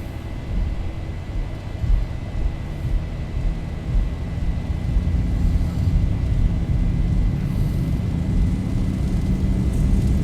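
Zibo 737 jet engines at takeoff power in the X-Plane 11 flight simulator, a loud steady low roar that builds slightly over the run, heard alone without speech.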